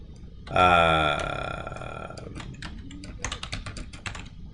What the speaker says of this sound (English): I can just go to the internet and type in Milford homes for sale